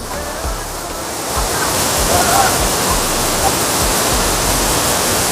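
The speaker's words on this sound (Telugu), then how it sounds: "చూడండి కదా వాటర్ ఫాల్స్ స్టార్టింగ్ పాయింట్ చూస్తున్నారు కదా" Sarugudu waterfall rushes in a steady, dense roar of falling water that fills the scene, close and loud, with faint voices underneath.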